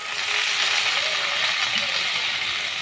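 Okra (lady finger) frying in a pan hisses with a steady, close sizzle of hot oil, continuous and even throughout, with no voices over it.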